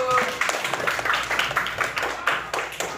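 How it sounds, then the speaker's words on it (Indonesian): A class claps together in a room, a dense patter of many hands at close range that holds steady for about three seconds, with a voice or two faintly mixed in. "Tepuk tangan untuk kita semua dulu."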